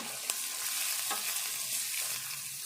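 Ridge gourd curry fries in a pan as salt goes in and it is stirred, a steady sizzle running throughout with a few soft scraping strokes of the spoon, close and fairly quiet.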